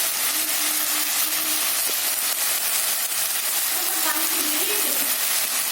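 Ginger-garlic paste sautés in a pan for mutton curry, giving a steady, close frying sizzle and hiss that runs unbroken, with some faint stirring under it.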